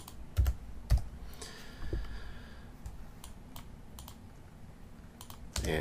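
Computer keyboard typing during video editing, with scattered close clicks and a few heavier key presses spread irregularly over several seconds against a quiet room background.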